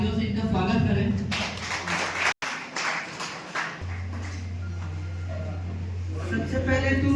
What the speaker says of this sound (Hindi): तो कृपया करके आप सभी लोग तालियों से इनका स्वागत करें।